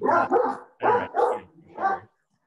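A dog barks repeatedly in a quick run of about five loud, close barks before falling silent.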